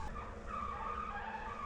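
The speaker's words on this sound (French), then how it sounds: "Il y a un tracteur qui couine là." A Massey Ferguson tractor squeals in a field, a continuous high, whining squeal heard at a moderate distance that holds steady for the whole short stretch.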